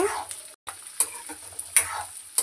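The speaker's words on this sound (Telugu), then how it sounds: "ఫ్రై చేసుకుందాం కొద్దిసేపు" Ingredients for a potato masala curry fry in a pan, a soft sizzle punctuated by several sharp scraping stirs at irregular intervals, with a brief dropout near the start and no speech.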